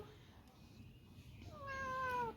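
A cat meows once, a drawn-out rising-and-falling call near the end, after a stretch of quiet room noise with faint voices in the background.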